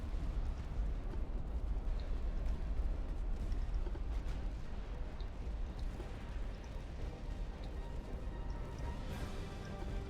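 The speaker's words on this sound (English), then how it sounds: "A few more torpedo hits over here." Torpedoes striking warships in the naval video game Ultimate Admiral Dreadnoughts: a low, muffled, continuous rumble of distant explosions and deep thuds, heard at a quiet level throughout with no voices.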